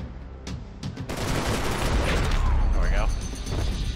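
Gunfire in Max Payne 3 during a shootout, with a few sharp shots and then a sustained roaring barrage, heard under a player talking.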